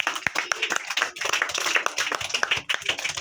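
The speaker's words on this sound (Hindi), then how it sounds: "एक बार जोरदार तालियां" An audience at a children's quiz show claps in a short burst of quick, fairly close hand claps lasting a few seconds.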